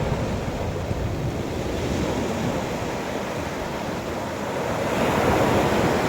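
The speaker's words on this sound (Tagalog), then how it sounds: "madungog na ko ning tingog sa mga balod nga mohampas diri sa shoreline, hangin pud nga managhoy" Sea waves wash onto a shoreline under blowing wind, a continuous roar of surf and gusty wind noise that swells slightly near the end, with no voices.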